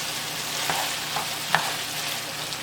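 Moussaka filling being stirred and mixed in a frying pan, with a soft steady sizzle and a few light scrapes and taps of the utensil, fairly quiet and with no talking.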